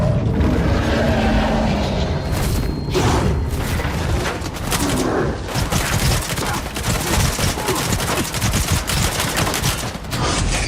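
Gunfire and explosions from hostile mercenaries in the video game STALKER 2: dense, continuous bursts of automatic fire and booming blasts, loud and chaotic throughout with no speech.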